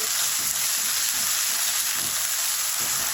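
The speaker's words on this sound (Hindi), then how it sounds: "इसको थोड़ी सी देर फ्राई करेंगे, 1 से 2 मिनट।" Steady, loud sizzling of ginger garlic paste frying in hot oil, a constant crackling hiss with faint stirring scrapes underneath.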